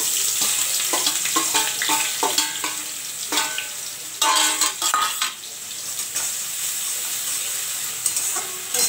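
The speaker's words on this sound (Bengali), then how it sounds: "কড়াইতে তেল দিয়ে দিয়েছি, এবার হচ্ছে পেঁয়াজ দিয়ে দিচ্ছি।" Onions frying in oil in a wok, giving a steady bright sizzle with bursts of stirring and scraping, close and loud, with no voice.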